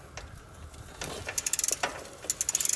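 A lifted bicycle's rear wheel spins freely on a six-speed cassette, its freewheel pawls ticking in rapid, accelerating clicks close to the ear, with faint mechanical rattles from the rear derailleur and no voices.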